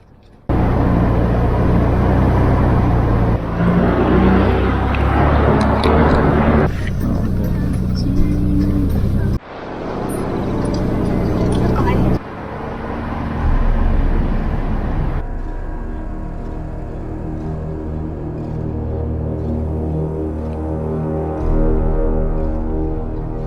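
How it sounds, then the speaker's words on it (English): A 4x4 off-road vehicle grinds over rugged mountain trails near Jermuk, Armenia, its engine droning loudly and close in long stretches broken by sudden shifts in tone as the ride jolts along. "The vehicle bounced over rocks, crossed muddy paths and climbed steep forest routes"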